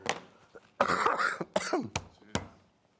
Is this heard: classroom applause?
no